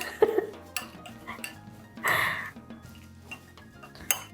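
Utensils clink against a bowl while Worcestershire sauce is stirred together with another sauce for Japanese okonomiyaki, giving a few sharp close taps and scrapes over quiet kitchen background.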